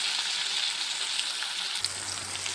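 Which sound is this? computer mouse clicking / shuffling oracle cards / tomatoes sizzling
tomatoes sizzling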